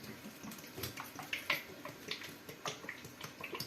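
Hot water poured from a kettle into a container while preparing sugar for a sellou recipe, a close splashing trickle with uneven gurgling bursts, faint and with no talk.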